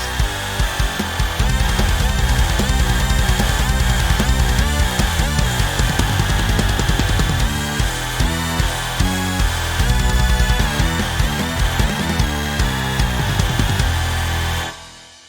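A dense, aggressive synthesized machine texture made in FL Studio 20 pulses steadily over a heavy bass line, loud and relentless throughout, then drops away at the end.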